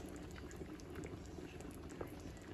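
Buckwheat soup boils quietly in a pot at home, giving a faint, steady bubbling with small scattered pops and no voices.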